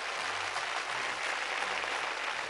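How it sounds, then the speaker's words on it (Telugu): A studio audience at a Telugu game show claps in a steady, dense burst of applause with no voices over it. "రండి, క్లాప్స్ కమ్ ఆన్."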